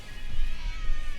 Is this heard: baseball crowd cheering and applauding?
no